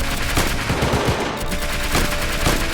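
Gunfire in the Roblox war game Unit 1968: close, loud volleys of automatic shots that repeat in bursts over a constant battle din.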